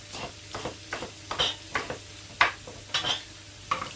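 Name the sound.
spring onions sizzling in hot oil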